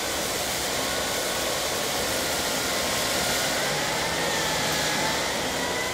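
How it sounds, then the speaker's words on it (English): A Miele S4 Neptune vacuum cleaner picks up ground-in dirt and sand, a steady loud broadband whoosh with a faint motor whine running unbroken throughout, no talking. "the Miele now is going to pick up some ground-in dirt and sand."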